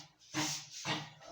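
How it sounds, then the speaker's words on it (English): A dog gives two harsh, breathy hacking coughs close by, each a short rough burst. "this is my dog coughing."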